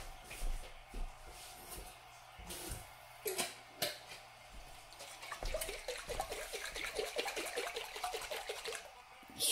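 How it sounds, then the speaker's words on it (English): Water is poured into a cooking pan of thinly sliced potatoes, giving a splashing, trickling run with some clattering and shuffling, getting busier and more continuous toward the end, close up with no speech. "Put a little water in."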